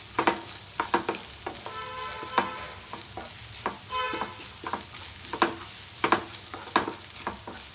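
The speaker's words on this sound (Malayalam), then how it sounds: "നല്ലതുപോലെ ഒന്ന് ഇളക്കി കൊടുക്കണം" Chopped onions sizzle in a hot pan while a spoon stirs them, making a run of close, irregular scraping strokes and clinks over a constant frying hiss, with no voices.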